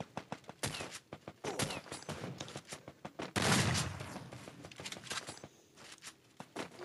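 Gunfire in the mobile battle royale game Free Fire: rapid, fairly faint bursts of shots with one heavier burst in the middle, and no talking.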